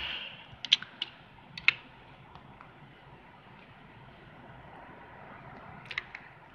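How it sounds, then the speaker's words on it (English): Typing on a fake mechanical LED backlit keyboard: a handful of quiet, sharp key clicks in two small clusters with a pause between them, against a faint hiss and no talking. "It's a fake mechanical keyboard."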